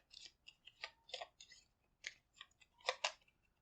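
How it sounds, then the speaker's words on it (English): Fragment deck of cards being shuffled during an Aeon's End board game, a run of quick crisp riffling and snapping bursts, close and fairly quiet, with no talk. "So I have to actually shuffle the fragment deck now."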